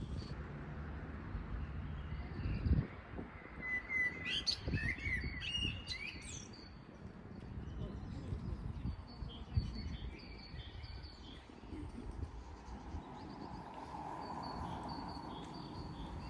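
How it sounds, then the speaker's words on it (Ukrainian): Birds chirp and sing in bright bursts in Sykhiv Park, Lviv, in spring, over a steady low rumble of city traffic, the calls clustered early and then thinning out. "незважаючи на міську метушню, пташки ведуть свій спів"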